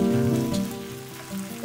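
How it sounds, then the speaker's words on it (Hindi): Potatoes and tomatoes roast in a pan for a Navratri fast sabzi, giving a soft, steady sizzle under a low hum with no talking. "अब हमें इसे करीब 4 से 5 मिनट तक भूनना है जिससे कि आलू टमाटर अच्छी तरह से मिल भी जाए"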